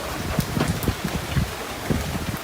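Rain falls in a Bangladeshi village, a close, irregular patter of drops and splashes with a soft wash of wind behind it.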